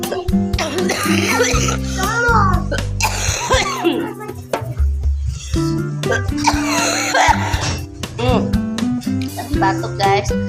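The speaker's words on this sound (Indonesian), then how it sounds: "Batuk guys." A few coughs at a child's birthday gathering, mixed in with lively chatter, children's voices and laughter filling the room, with music playing in the background.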